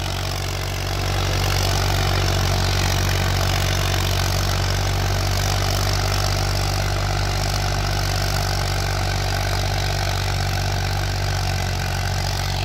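A 1991 Massey 35 tractor engine pulling a cultivator runs steadily and loudly, a dense low diesel drone with a constant chugging texture that holds throughout without a break.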